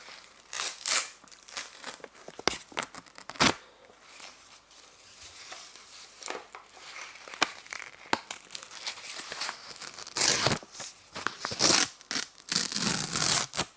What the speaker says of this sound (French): Je déchire devant vous cette merdasse.